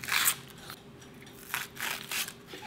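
A kitchen knife slices through a thick large green onion (daepa) on a cutting board, giving several close, crisp crunching cuts with brief gaps, no talking.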